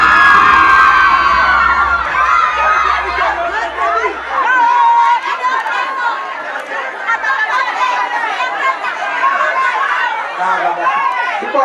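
A large crowd of women screams and cheers continuously at a live soca concert, loud and dense with overlapping shouts and whoops, while a low bass rumble fades out early on.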